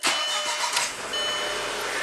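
A VW Passat with a P0341 fault, its engine cranking and catching after a brief key bump, a loud continuous mechanical roar that holds steady close by with no talking.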